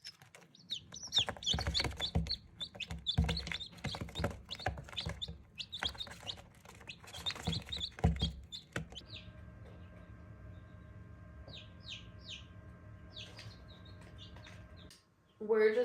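Newly hatched chick, still wet, peeping: thin high chirps repeated in quick bursts, faint and close, first under a person talking and then more alone over a low steady hum.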